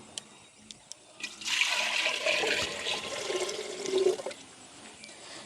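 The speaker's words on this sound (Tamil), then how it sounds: "நாங்கள் பானையை வச்சு தண்ணி விடுவோம்" Water pours into a clay pot for cooking mango payasam in a village kitchen, starting after a few faint taps and running as a steady splashing gush for several seconds, close and with no talking.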